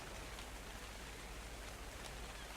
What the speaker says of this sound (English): the rain is doing a fine,